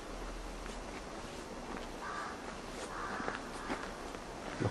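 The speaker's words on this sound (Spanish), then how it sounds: "Los cuervos siguen volando para acá." Crows cawing outside the perimeter at the Auschwitz concentration camp, faint scattered calls over steady outdoor ambience with footsteps crunching nearby, no one talking.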